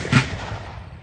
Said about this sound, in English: You're going to do a company fire, so if you've got tender small ears, just be prepared.